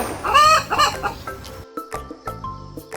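A hen clucks several times close by, a short run of throaty calls with brief pauses in between and no other sounds.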